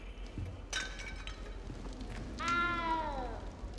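A cat meows in Hogwarts Legacy, one drawn-out, falling meow near the end after a shorter cry, over quiet game ambience.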